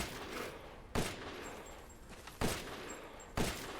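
Three heavy, booming shots from a fully upgraded Stake Magnum revolver in Resident Evil Village on Village of Shadows difficulty, spaced about a second apart, each with a sharp attack and a lingering decay over quiet ambience.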